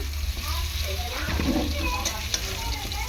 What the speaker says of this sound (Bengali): এখানে দেখো আলুটা ভালো করে ভেজে নিয়েছি আমি, এখন তুলে নেব।